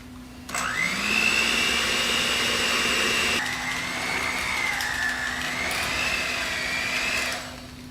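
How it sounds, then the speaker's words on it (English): An electric hand mixer beats thick cookie dough for lemon ricotta cookies, a loud steady motor whine close by that wavers in pitch as it works through the dough and then cuts off. "slowly add your flour with your one hand, hold the bowl with your other hand, and then use the mixer with your other hand"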